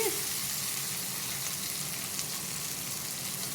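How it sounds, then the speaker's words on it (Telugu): Steady broadband sizzle of food frying in a pan while being turned, made while preparing suji bun dosas with chutney; continuous and close, with no talking. "ఇలా తిప్పుకుంటూ ఫ్రై చేసుకోవాలి తొందరగానే ఫ్రై అయిపోతాయండి"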